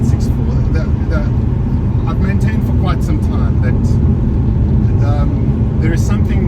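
A Porsche 964 engine held near 5,000 rpm while driving at speed, a loud, dense, steady drone with road and wind noise, and someone talking over it.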